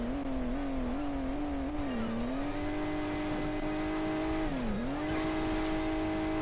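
A car's engine revs and accelerates in the mobile racing game Hill Climb Racing 2, a loud, continuous motor tone that wavers and dips as it climbs, with no voices over it.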